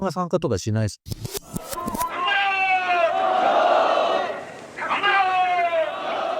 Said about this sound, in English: In Japan, a left-wing demonstrator leads a crowd of supporters in a clamorous protest.